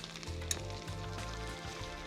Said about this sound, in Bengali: মশলাটাকে আগে একটু সুন্দরভাবে কষিয়ে নিতে হবে